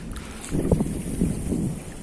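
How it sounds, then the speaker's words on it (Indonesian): Wind rising with rain at a river estuary during a fishing trip, a steady rushing bluster buffeting the microphone, with a few faint low knocks or murmurs underneath. "Udah mulai ada angin, hujan."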